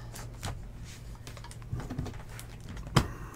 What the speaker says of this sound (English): Move my keyboard out of the way.